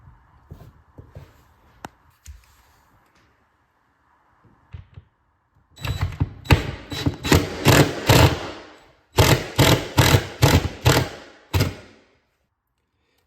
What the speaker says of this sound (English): I'm not putting these screws in real tight because, again, they'll just strip it.